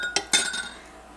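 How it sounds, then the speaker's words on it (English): A spoon lifted out of a bowl of homemade bread dough gives two quick, bright clinks against the bowl's rim, close and fairly quiet, then fades to a soft ringing tail. "So at this point, I'm going to take out the spoon"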